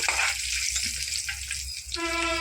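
Rice and peanuts fry in a pan with a steady close sizzle and occasional scraping stirs, ending in a brief ringing tone.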